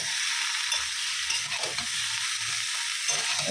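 Broccoli and capsicum fry in a pan with turmeric, a little chilli powder and salt, producing a dense, even sizzle close by, with faint stirring scrapes underneath and no talk.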